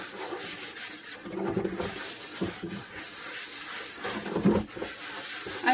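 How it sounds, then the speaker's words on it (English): A wiping sponge rubs over the surface of an outdoor barrel, giving a steady, close scrubbing rasp with short irregular strokes that continue throughout. "And then just rub the surface."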